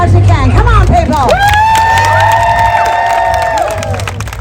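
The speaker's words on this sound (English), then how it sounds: "I need everyone to give us some clapping and cheering as loud as you can" A street festival crowd at the Edmonton International Street Festival claps and cheers loudly on request, a dense burst of shouts, whoops and rising voices close by that swells and then slowly eases over a few seconds.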